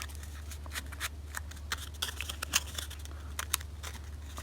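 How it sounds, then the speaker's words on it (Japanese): Scissors snipping through paper while trimming a pop-up card, a run of quick, light, crisp cuts scattered irregularly over a faint steady hum, with no talking. "ここが少し当たっちゃう場合はハサミでカットしましょう。"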